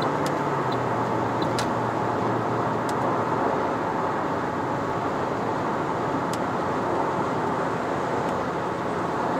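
Steady engine and road drone from a 2015 Toyota Corolla Altis 2.0V with a CVT gearbox being driven in Malaysia, a constant mid-level hum with faint ticks, no talking.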